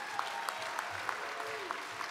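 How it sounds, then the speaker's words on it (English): Fairly faint crowd applause at a California Democratic political gathering, with steady clapping continuing throughout and some voices and scattered cheers mixed in. "Give yourselves a round of applause."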